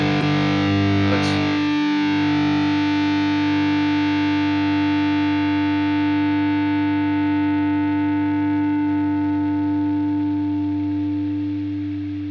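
Distorted rhythm guitar through the Neural DSP Archetype Petrucci amp sim: a heavy chord struck once with a short muted chug, then left to ring and slowly decay over several seconds.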